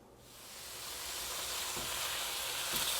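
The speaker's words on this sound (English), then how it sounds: "So we're just going to be browning our meat lightly and break it up as it goes along" Ground beef and Italian sausage brown in a pan over medium heat, giving a steady, close, broad sizzle that swells at the start and holds loud throughout, with faint stirring scrapes.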